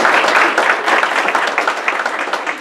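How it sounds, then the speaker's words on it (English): An audience at a YMCA-hosted community business gathering breaks into brief, dense applause, a close, steady wash of clapping lasting a few seconds. "Give him a round of applause."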